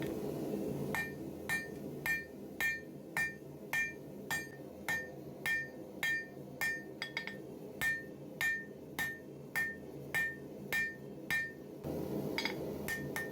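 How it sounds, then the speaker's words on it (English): Hammer blows forge the tang of a Bowie knife from an old mill bastard file, about twenty sharp metallic strikes in a steady, evenly spaced rhythm, close and clear with no talk. "So this Bowie's being made out of an old mill bastard file, and we're starting off by forging the tang."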